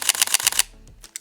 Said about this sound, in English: but of course this electronic shutter doesn't work in all situations.